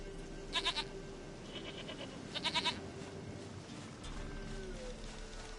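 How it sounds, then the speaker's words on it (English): A goat in a video game bleats twice in short, wavering bursts, one early and one near the middle, over a steady low ambient wind bed with no talking. "Goat of mine, dearest, sweetest goat."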